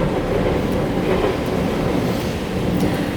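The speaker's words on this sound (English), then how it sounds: "That's the train that never stops." Train rolling past near a rented flat in Battersea, London, a loud close rumble with rhythmic clattering of wheels on rails throughout.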